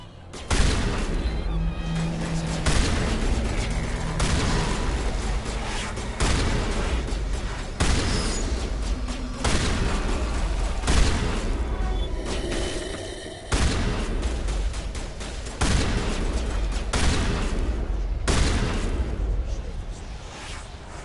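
Shotgun blasts in the sci-fi shooter video game Mass Effect, heavy booming shots fired repeatedly at a steady pace for about twenty seconds, each a loud broadband thump amid continuous combat noise.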